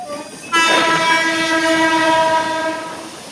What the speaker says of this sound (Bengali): আমাদের ট্রেন উলুবেড়িয়া স্টেশনে ঢুকছে।